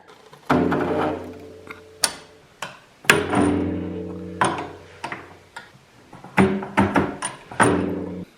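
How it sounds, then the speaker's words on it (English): Metal tool strikes and ringing clanks while loosening a locking nut and adjusting spring preload on an Arctic Cat ZR snowmobile shock, a series of sharp close hits at irregular intervals, some ringing out briefly. "I've got to crack the locking nut loose. And then with that one loose there, we can crank this down a bit."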